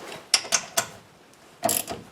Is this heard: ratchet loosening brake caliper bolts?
yes